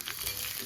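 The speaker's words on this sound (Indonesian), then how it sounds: "Setelah minyak panas, aku tumis dulu bawang putihnya." Garlic sautéing in hot cooking oil gives a steady, close crackling sizzle that fills the moment without any talking.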